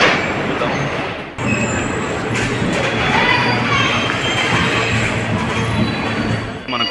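The Sai Nagar Shirdi Express, a weekly Kadapa to Hyderabad train, rolls through the station with a loud, steady rumble of wheels and carriages and high metallic squeals over the din.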